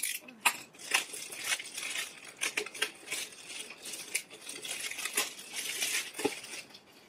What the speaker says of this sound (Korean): 포장지 소리가 많은 걸 사죄드립니다.